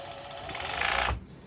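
A sewing machine runs a zigzag stitch on hoodie fabric in one short, close burst of rapid mechanical whirring and clicking that cuts off abruptly.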